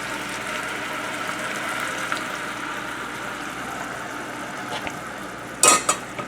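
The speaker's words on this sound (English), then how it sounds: "we're going to take it off the heat for a second, and we're actually going to strain it into another pan" Reduced Bordelaise sauce, a derivative of espagnole, strained off the heat through a fine chinois into a clean pan. A steady, soft liquid wash runs throughout, ending in a brief metallic clatter of pan and strainer near the close.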